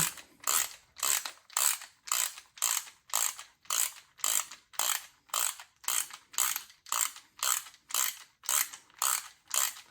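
A ratchet tightening down motorcycle fork parts on a CF Moto Ibex 450 during a fork valving job: steady, close clicking strokes repeat evenly about every half second, around twenty in a row, with no talk.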